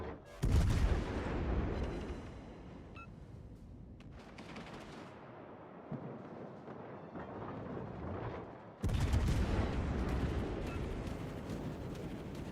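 Heavy artillery fire booms and rumbles in a video game battle, with loud blasts and sustained rolling barrages, a quieter stretch midway, then another strong burst of firing.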